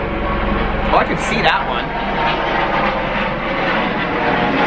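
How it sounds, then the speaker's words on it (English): A helicopter flies overhead outdoors with a loud, steady engine drone that swells and lingers while someone talks over it. "Helicopter."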